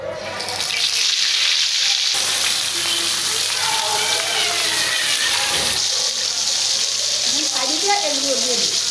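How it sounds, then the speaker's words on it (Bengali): Fish and sweet pumpkin pieces fry in hot oil on a heated tawa, giving a loud, steady sizzle and crackle that runs without a break from start to finish. "এগুলি ভেজে নেব, মাছগুলো ভাজবো, এই মিষ্টি কুমড়াগুলো ভাজবো।"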